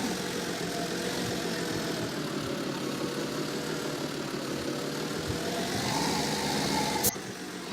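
Small Renault tractor engine in Farming Simulator 17 running at a steady drone throughout, constant and even with a brief click near the end.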